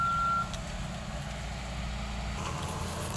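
A sugarcane harvester turning back in a muddy field gives a brief single reversing beep at the start, then its heavy diesel engine keeps rumbling steadily at a moderate distance, with no talking.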